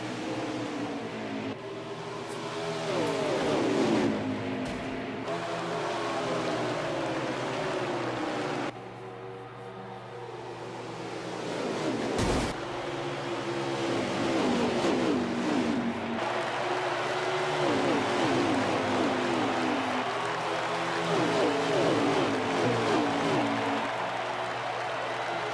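Stock cars roar off the green flag at Darlington Raceway in a Cup Series 500, a thick, continuous engine drone swelling and holding loud across the whole stretch with a brief sharp burst midway.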